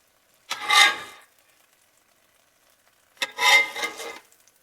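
Ground meat for a chopped cheese bowl hits a hot pan twice, each time a short, close sizzling hiss that fades within a second, with silence between the bursts.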